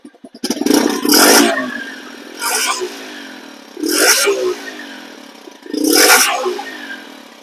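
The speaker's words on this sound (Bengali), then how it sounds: "আমরা একটু বাইকটার স্টার্ট করে একটু দেখি এর সাউন্ডটা কিরকম।" A new 2025 TVS Mettro motorcycle engine roars in four loud, separate bursts of revving, each fading quickly before the next throttle blip.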